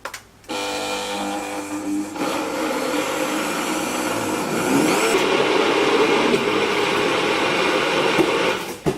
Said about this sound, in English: I ran the blender 3 times in order to get it smooth